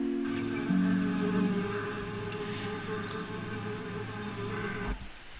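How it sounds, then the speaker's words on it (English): Bees buzzing, layered as an effect into an edited nature soundscape over a flower scene, a steady droning hum lasting several seconds at moderate level with faint background ambience, no voices. "you have the sound of the bees in there"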